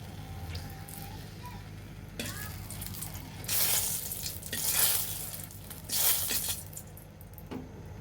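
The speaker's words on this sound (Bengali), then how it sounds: "শুকনো লঙ্কা ভাজা হয়ে গিয়েছে" Oil sizzles in a pan with dry red chillies frying, a soft crackle swelling in a few louder bursts of frying as things are stirred, with occasional clinks.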